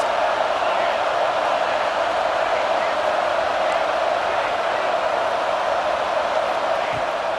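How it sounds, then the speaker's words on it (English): A packed stadium crowd roars without pause in the video game College Football 26 during a Florida State Seminoles vs. Washington Huskies matchup, a loud, dense and unbroken wall of noise. "Listen to this crowd just shaking the girders of this place, trying to help their defense."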